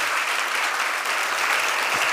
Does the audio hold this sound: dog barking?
no